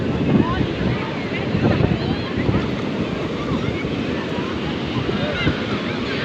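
Surf at Sea View beach, Karachi, churning continuously up close, with wind rumbling across the microphone and swells rising and falling in loudness throughout.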